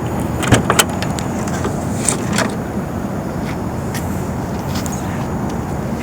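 The trunk of a very large car, one with fuel pump trouble, is opened. A few sharp latch clicks and a soft clunk sound close by over a steady low background rumble, with no talking.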